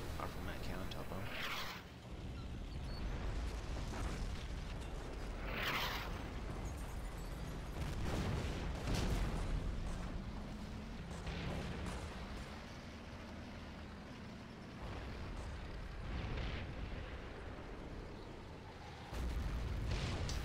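Artillery fire and explosions in an urban combat video game, with repeated booms and bursts across a dense, continuous battle din, while people talk over it throughout.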